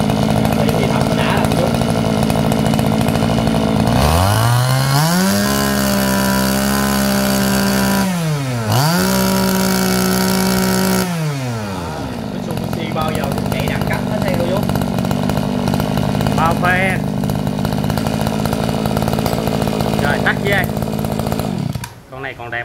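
A used Japanese two-stroke grass trimmer engine runs loudly up close, its buzzing pitch rising and falling as the throttle is revved several times before settling to idle, with people talking over it.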